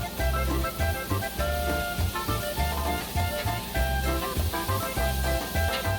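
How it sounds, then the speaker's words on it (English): Sausage and sweet yellow onion sizzle in oil in a pot, a steady, loud frying hiss running throughout with music playing underneath. "we're going to continue to cook the sausage and the onion"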